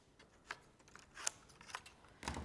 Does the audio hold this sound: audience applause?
no